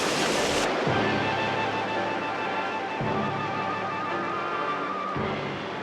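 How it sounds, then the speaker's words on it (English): Churning white water on a wild river in Yugoslavia roars as a steady, loud broadband rush of rapids, with no talking. "It's nearly 10 miles of this churning white water"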